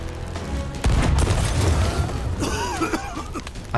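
Cannon fire in the pirate game Sea of Thieves, with heavy booms and crashing impacts of cannonballs hitting rock, loud and dense across the clip amid game noise.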